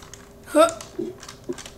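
Computer keyboard keys are pressed in a few quick, separate taps during Minecraft parkour gameplay, heard close up between a short vocal exclamation from a player.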